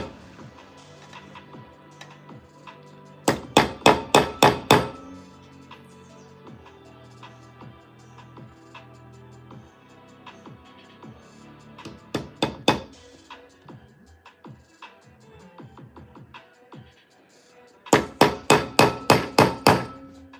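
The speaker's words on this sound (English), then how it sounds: "Like every stone that gets put in, I have to stamp and drill" Hand-stamping and drilling stone with a hammer: three bursts of sharp, rapid metallic strikes, each a quick run of about five to seven close, loud blows, separated by quieter stretches of faint tapping and handling.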